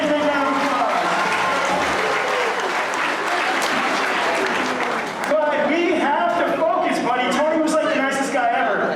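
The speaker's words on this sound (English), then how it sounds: "Give Tony a big round of applause." An audience at a sea lion and otter show claps loudly and continuously, a dense wash of applause with cheering voices mixed in throughout.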